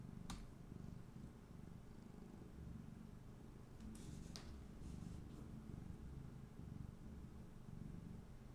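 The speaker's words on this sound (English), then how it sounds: "You guys hear purring?" A cat sitting just out of view beside a computer monitor purrs with a soft, steady low rumble that runs throughout. It stays faint and continuous, with a couple of tiny clicks along the way.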